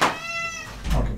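A house cat meows near the microphone in a domestic room, one drawn-out tonal meow followed by a short rustle or thump.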